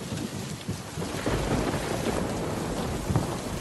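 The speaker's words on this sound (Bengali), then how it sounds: "দেখো কেমন মেঘ ডাকছে, বৃষ্টিও দেখো কত জোরে জোরে পড়ছে" Cartoon thunderstorm with heavy hail and rain: a dense, steady roar of falling rain with low rumbling thunder rolling underneath, loud and close throughout, no speech.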